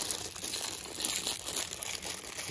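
Plastic packaging crinkles and rustles continuously and quietly, up close, as accessories for an Akaso V50x action camera are unwrapped.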